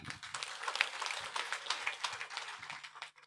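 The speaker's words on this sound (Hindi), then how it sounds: "भाई साहब के लिए जोरदार तालियां।" Faint, distant applause from a crowd at a village political rally in Sanpeda, Gannaur, a continuous patter of many hands for about three seconds before cutting off.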